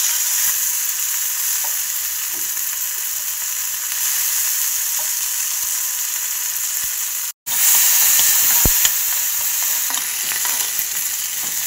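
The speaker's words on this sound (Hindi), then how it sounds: "ये देखिए दाल अभी भून रही है" Soaked urad dal frying in hot oil, a steady close sizzle and crackle with stirring, broken by a brief cut to silence near the middle before the frying resumes.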